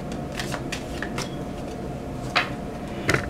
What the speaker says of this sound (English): let's go ahead and get some angel card